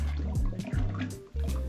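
Amaretto is poured from a bottle into a cocktail glass, making a short burst of close liquid gurgles and drips. The pour stops briefly near the end and then resumes.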